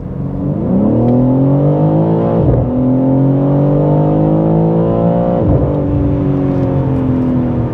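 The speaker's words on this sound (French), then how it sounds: "Allez, on se refait une petite dose d'accélération. Ça monte à 6000 tours, 6500 tours minute" A BMW M3 Touring G81 engine revs hard under acceleration from inside the cabin, pitch climbing steadily to high rpm, with two brief drops at gear changes before rising again, loud and continuous with no talking.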